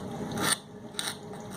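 Two short scraping strokes of a scraper blade taking coating off an anchor, close and fairly quiet, separated by a brief pause.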